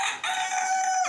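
Backyard chickens kept in Saudi Arabia, with a rooster letting out a short, loud crow close by, alone and without voices.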